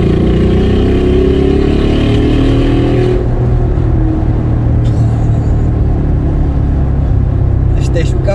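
Brabus G700 V8 engine rumbling and revving in manual paddle-shift mode, a loud continuous low roar with rising revs in the first few seconds, then a steady throaty drone; faint clicks near the end.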